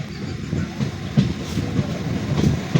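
Passenger train running through rubber estates on the way to Palaruvi, its wheels knocking over rail joints in a steady clickety-clack rhythm under a continuous rumbling carriage noise, heard from on board.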